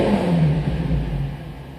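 An Infiniti G35 engine, just fitted with new coil packs, cranks and revs up, a loud close rumbling surge that holds and slightly tapers over a couple of seconds.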